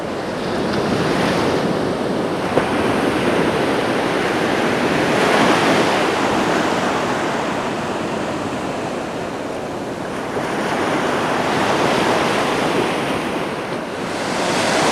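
Ocean surf pounds a Namibian beach during shore fishing, a continuous loud roar of breaking waves with rising and falling swells, mixed with wind buffeting the microphone and no voices.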